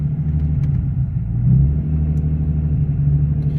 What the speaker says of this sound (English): You can see the car is running and idling right now.